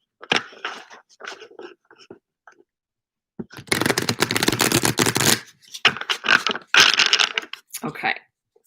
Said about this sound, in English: Let me give you a nice full shuffle here.